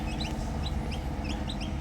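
Newly hatched chicks moved from an incubator chirp in high, rising peeps, several overlapping at close range above a steady low hum.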